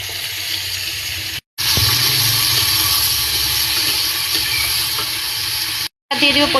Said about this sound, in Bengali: এবার সামান্য পরিমাণ জিরা, পরে দিয়ে দিচ্ছে সবজি।